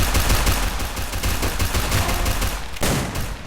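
Rapid automatic gunfire in the Free Fire mobile battle royale game, a dense loud burst of shots downing an enemy player, continuous for several seconds with a brief break near the end.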